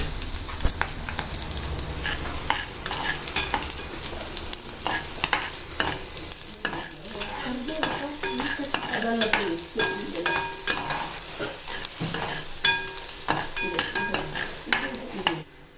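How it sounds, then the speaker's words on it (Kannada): Garlic sizzles gently in a pan on a low flame while a spatula stirs and scrapes it in close, irregular strokes, with no voices. "ಚೆಂದ ಬಾಡಿಸ್ಕೊಳ್ರಿ, ಸಣ್ಣ ಉರಿ ಮೇಲೆ ಬಾಡಿಸ್ಕೊಳ್ರಿ."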